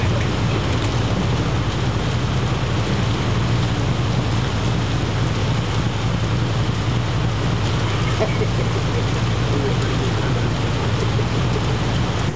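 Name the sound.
rain falling at race track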